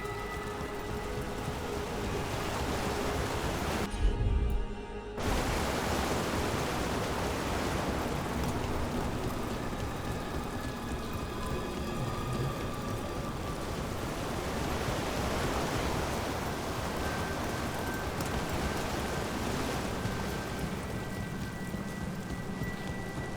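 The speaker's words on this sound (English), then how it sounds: "By the waterfall." Waterfall in the video game Dragon Age: The Veilguard, a continuous wide rushing roar of falling water with a soft tonal hum beneath, steady and unbroken apart from a brief dip, no talk.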